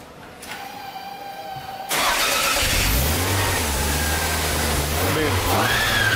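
A Toyota MR2 (AW11) with a swapped 3S-GTE engine cranks and fires up, then settles into a steady, loud idle that fills the rest of the clip.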